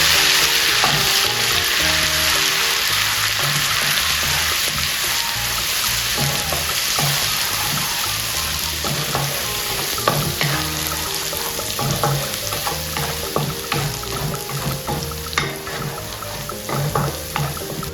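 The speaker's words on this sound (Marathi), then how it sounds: "ही पेस्ट आहे ना व्यवस्थित तेलात भाजून घेऊया" Ginger, garlic and chilli paste frying in oil for a masoor dal egg curry, with a loud, steady close sizzle and occasional stirring scrapes throughout, no talk.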